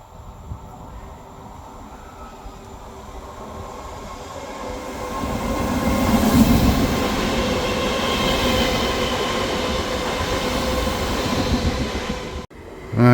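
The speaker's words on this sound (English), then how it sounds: "Right, here comes my train." A passenger train pulls into Katrineholm station, its rumble swelling steadily as it nears, with rail clatter and faint wheel squeal building over several seconds before a sharp cutoff near the end.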